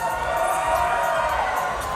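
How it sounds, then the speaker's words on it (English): Crowd noise at a WAR Wrestling Rumble event, a steady, dense roar of cheering and shouting spectators that stays loud and continuous throughout. "You just hear the War crowd."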